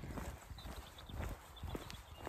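Hooves of wild New Forest ponies clip-clop on an evening walk, a run of soft, uneven thuds close by with no voices over them.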